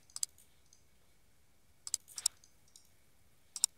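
A computer mouse clicks during SketchUp modelling work, a few crisp, faint single and double clicks spaced apart in a quiet room.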